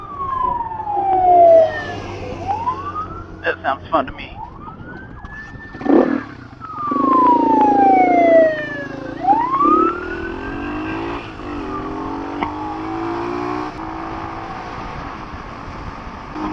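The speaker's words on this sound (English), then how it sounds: "I feel like we should follow the sirens though and see where they're going." Emergency vehicle sirens wail and yelp past on a road, rising and falling in repeated sweeps over steady traffic noise, fairly loud and close, with a brief spoken remark partway through.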